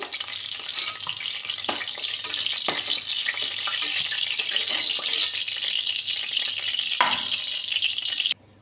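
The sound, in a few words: frying pointed gourd (potol) in oil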